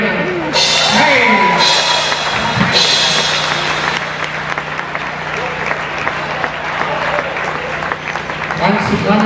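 A circus audience at Zippos Circus applauds the ring crew, with steady clapping filling the tent, music and a voice audible beneath.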